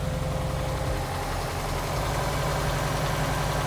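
A Subaru STI engine idles steadily up close, a dense low rumble with a slight uneven throb running underneath, no voices.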